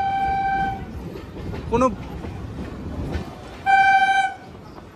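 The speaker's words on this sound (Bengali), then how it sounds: "ট্রেন দেখুন দেখুন" A train passes close by and sounds two long, loud horn blasts, one at the start and one near the end, over rumbling carriages while people talk nearby.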